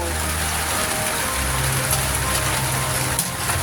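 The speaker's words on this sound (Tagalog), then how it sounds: "Yan ang kalaban ng magtataho. Yung ulan. Ulan." Steady rain falls close by in Guimba, Nueva Ecija, a dense, constant hiss and patter that holds evenly from start to finish.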